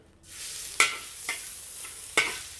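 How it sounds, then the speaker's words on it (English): A whole bulb of chopped garlic dropped into hot oil in a wok bursts into a sudden loud sizzle that holds steady, with a few sharp utensil clacks against the metal, close by and without speech. "we want to fry the garlic. One whole bulb of garlic, chopped, put it in"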